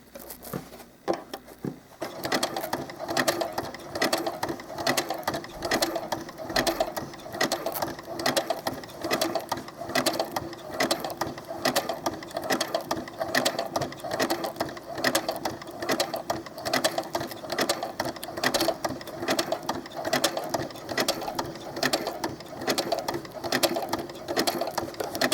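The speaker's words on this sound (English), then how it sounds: "my machine goes backwards and then forwards to do that" A sewing machine stitches doll clothes fastened with Velcro, its steady rapid mechanical whir running close and loud without pause for the whole stretch.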